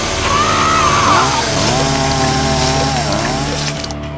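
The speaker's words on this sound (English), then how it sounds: "there's a chainsaw coming right towards us" A loud motor whines and revs continuously, its pitch rising and falling like a chainsaw running close by, with no pauses.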